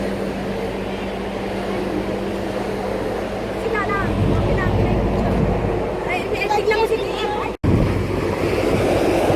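Cold wind blows across the deck of a U.S. Navy tanker, a steady broadband roar with microphone buffeting and distant surf, while voices speak now and then and one sharp dropout cuts in near the end.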